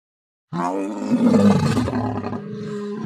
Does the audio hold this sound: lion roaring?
yes